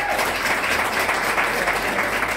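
Audience applause at a live theatre performance, a dense, steady wash of many hands clapping throughout, fairly loud and continuous with no voices standing out.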